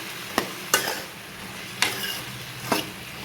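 Broad bean pieces fry in a pan under a soft, low sizzle, with four sharp scraping stirs of a spatula spaced unevenly over a few seconds, close by and alone.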